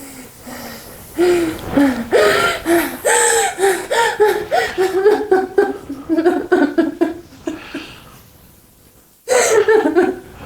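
Heavy, rhythmic mouth breathing from a person in a somatic rebirthing breathwork session, loud and close, with rapid gasping, wheezy inhales and exhales, a brief pause, then another strong burst.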